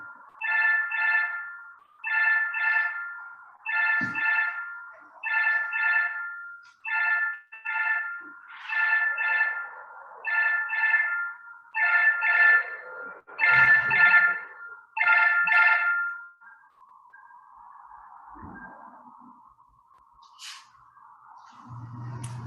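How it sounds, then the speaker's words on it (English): A telephone rings in repeated electronic bursts, about a dozen evenly spaced trilling pulses, loud and close in an otherwise quiet room, then stops, leaving faint background hum. "phone is ringing."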